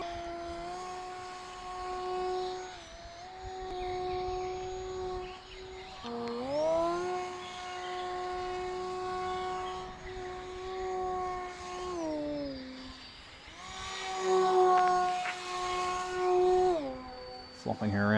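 A small control-line model airplane engine buzzes steadily through a rough takeoff and into flight, its pitch rising and falling as the plane circles and moves nearer and farther, droning at moderate loudness throughout.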